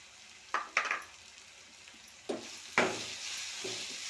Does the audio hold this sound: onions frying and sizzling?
yes